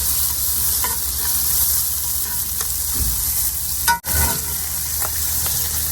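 Onions caramelize on a charcoal- and wood-fired griddle for smash burgers with a loud, continuous sizzle. Occasional spatula scrapes break through, and one sharp knock comes near the middle.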